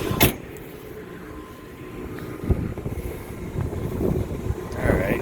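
An Aaon rooftop HVAC unit's motor runs with a slight wobble, producing a steady low mechanical rumble with occasional knocks and thumps, close by, with faint voice-like sounds in the background.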